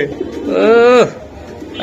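A single, close, loud coo from a pigeon at a busy wholesale pigeon market selling racers, Budapest and fancy breeds, rising and falling for about half a second amid background murmur.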